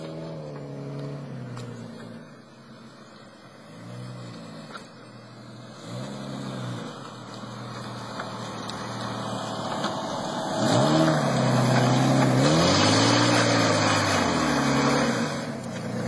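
A Jeep in two-wheel drive revs repeatedly, its engine rising and falling in pitch several times and growing louder toward the end, with steady mechanical and road noise underneath.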